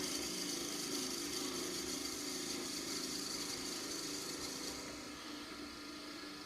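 A drill bit fed into wood on a homemade wood lathe fitted with a collet chuck makes a loud, steady whirring and grinding hiss that goes on for several seconds, then eases slightly near the end.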